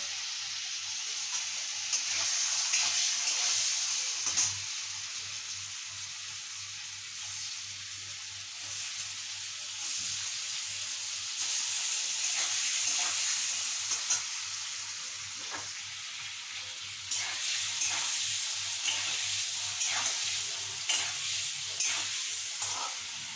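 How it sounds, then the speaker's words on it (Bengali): Paneer cubes fry lightly in a pan of hot oil, making a steady, moderately loud sizzle with intermittent stirring clicks and scrapes that continue throughout. "এর মধ্যে আমি পনিরগুলো দিয়ে হালকা ফ্রাই করে ভেজে নেব।"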